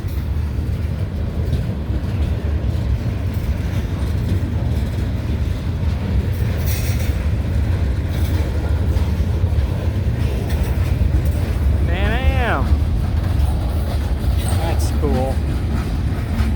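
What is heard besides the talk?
long freight train passing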